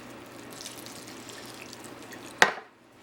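Liquid poured onto freeze-dried vegetables gives a soft, steady trickle that ends in one sharp splash or clatter, close and faint, then near silence.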